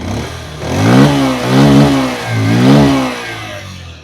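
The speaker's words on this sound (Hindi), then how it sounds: "अब मैं देता हूं थ्रॉटल।" A Bajaj Pulsar 125 motorcycle engine is revved with the throttle, climbing and falling in pitch through two or three strong surges before easing back. The engine sounds close and loud, with no talking.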